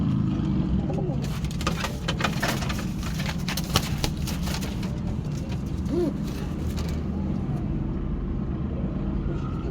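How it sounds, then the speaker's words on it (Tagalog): A pigeon coos softly a couple of times amid steady background rumble and some rustling noise. "Gandang ibon mga boss."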